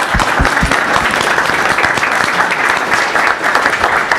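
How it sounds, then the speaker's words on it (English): Loud applause from a conference audience at a Vulkan and SPIR-V technical session, with a few sharp individual claps at the start and then a dense, steady patter for about four seconds. "So round of applause for Valve too."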